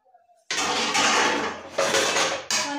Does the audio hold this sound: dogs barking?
no